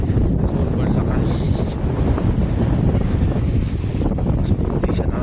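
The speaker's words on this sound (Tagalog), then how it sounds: "Grabe, sarap ng hangin dito." Strong wind roars across the microphone on a lakeside boardwalk in San Pablo, Laguna, loud and constant with heavy low rumble and gusty buffeting throughout.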